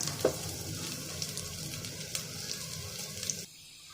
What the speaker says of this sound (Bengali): তেলটা গরম হয়ে গেছে পেঁয়াজ দিয়ে দেব পেঁয়াজ দিয়ে দিলাম